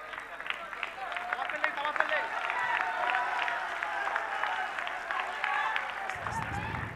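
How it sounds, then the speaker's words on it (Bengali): A crowd at a cricket match claps and cheers with scattered, uneven applause at moderate distance, while a commentator's voice talks over it. "একটু জোরে হাততালি হোক, এত সুন্দর ফিল্ডিং হলো, জোরে একটু হাততালি হোক"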